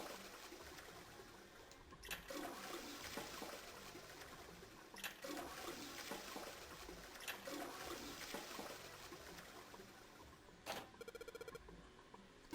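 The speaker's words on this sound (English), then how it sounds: "No, it's got to be how many times we flushed. Can I flush it still?" A toilet flushes in the Zero Escape video game, a continuous rushing water wash with trickling, broken by a few short clunks and a brief electronic ringing tone near the end; no talking.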